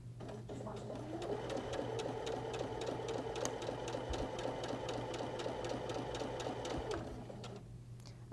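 A sewing machine stitching strip-pieced quilt diamonds runs steadily for most of the clip, a rapid mechanical rattling hum with regular needle clicks, close and loud, before stopping near the end.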